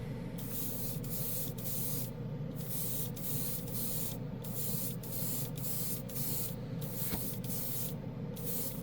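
Alclad chrome paint hisses steadily from an airbrush onto a purple base coat, a continuous close spray broken by brief pauses, with no talking.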